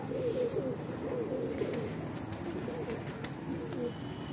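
A flock of Weshi, Kansani and Sialkoti pigeons coos continuously in a steady low murmur, close and moderately loud.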